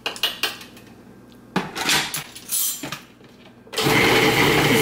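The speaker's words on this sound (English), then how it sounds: "Just pulsing frozen bananas in the food processor." Frozen bananas and matcha green tea pulsed in a food processor: short choppy whirring bursts with rattling and clattering, then a loud continuous grinding run at the end, close up with no talk.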